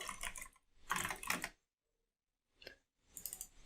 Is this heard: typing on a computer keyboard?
yes